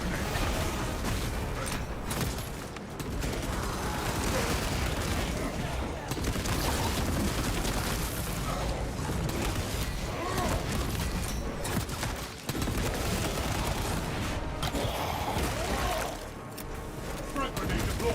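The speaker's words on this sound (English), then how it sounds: "Frag grenade deployed." Frag grenade blast amid continuous gunfire in the video game Space Marine 2, a dense, loud, sustained wall of combat noise with rapid shots and bursts running the whole time, with game voice lines mixed in.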